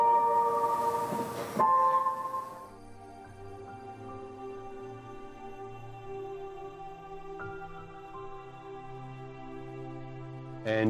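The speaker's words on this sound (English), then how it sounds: "almost sad but not too sentimental kind of thing. And I used a piano." A quiet, lonely solo piano theme for a film score, sparse sustained notes and soft chords ringing out slowly with long decays, gentle and unhurried, no voices.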